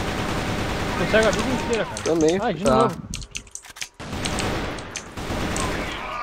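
Gunfire in a video game: a burst of sharp shots breaks through as someone talks excitedly, then the talking resumes.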